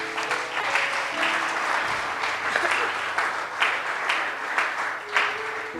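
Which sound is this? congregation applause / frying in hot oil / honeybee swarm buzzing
congregation applause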